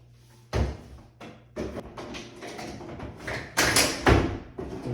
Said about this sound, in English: I'm going to set the drawer box on the glides.